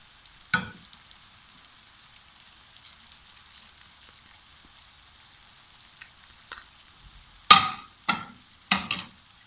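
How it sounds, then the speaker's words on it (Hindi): Khageena, an egg scramble, frying in a pan while spices are stirred in, with quiet sizzling and a few distinct spoon scrapes against the pan, sparse at first and then clustered toward the end. "इसको अच्छी तरह मिक्स कर लेते हैं।"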